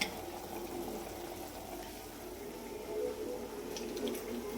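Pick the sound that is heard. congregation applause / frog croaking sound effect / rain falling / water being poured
water being poured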